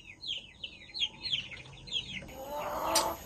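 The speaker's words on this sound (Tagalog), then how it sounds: "Ito ay upgraded native chicken" Upgraded native chickens chirp and cluck in a rapid series of short calls. A louder, rougher squawk comes near the end, close by in an otherwise quiet setting.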